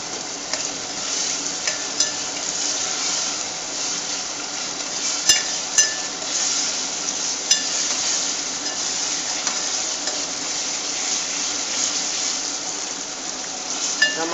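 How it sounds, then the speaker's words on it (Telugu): Garlic paste fries in a pan for a cauliflower, tomato and meal maker curry, giving a steady moderate sizzle with occasional sharp clinks of a utensil stirring against the pan. "వెల్లుల్లిపాయ పేస్ట్ పచ్చివాసన పోయేంత వరకు కూడా ఫ్రై చేసుకోవాలన్నమాట ఫ్రెండ్స్"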